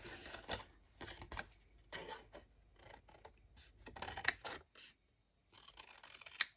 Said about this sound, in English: I'm going to cut up all of my score lines.